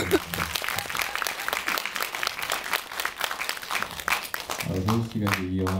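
An audience at a Korean film screening Q&A applauds steadily, with a dense patter of claps throughout and a voice speaking over them near the end.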